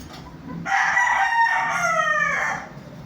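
A rooster crows once, loud and close, a long strained call that rises and trails off.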